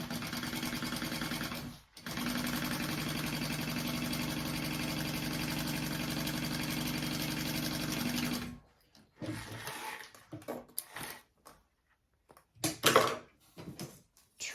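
A sewing machine stitches a seam on a crossbody bag, running steadily for about eight seconds with one brief pause, then stopping and starting in short bursts amid handling noises.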